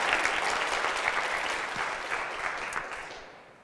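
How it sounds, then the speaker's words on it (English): An audience claps steadily for law students being introduced at an event, the applause full and close at first, then gradually thinning and fading out near the end. "Clap it up for them."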